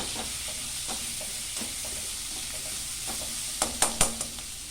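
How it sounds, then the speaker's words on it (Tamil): Peanuts sautéing in a pan for coconut chutney, a steady soft sizzle under repeated light scrapes of a spatula, ending in a few louder knocks against the pan. "அடுத்து கொஞ்சம் நிலக்கடலையே கொஞ்சம் எடுத்து வச்சுருக்கேன், அது போட்டுக்கலாம். வதங்கட்டும்."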